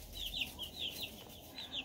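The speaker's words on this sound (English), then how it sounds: "my chicks are now just a little bit over a week old" Week-old Cornish Rock chicks peeping in a series of thin, high chirps, fairly faint and fairly steady, with no talking.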